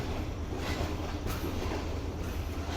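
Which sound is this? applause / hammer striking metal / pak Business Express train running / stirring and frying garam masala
pak Business Express train running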